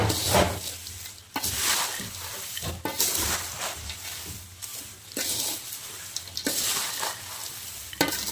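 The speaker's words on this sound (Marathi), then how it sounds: "मीठ टाकून मस्त हलवून घेऊ आता" Corn chivda is stirred in a frying pan, with a continuous loud sizzle broken by repeated scraping strokes of a spoon against the pan.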